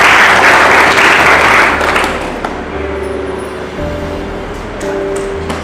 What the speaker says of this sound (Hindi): ताली बजाकर खुदा की महिमा करें।